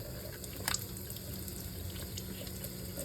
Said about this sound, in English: So let's rinse it.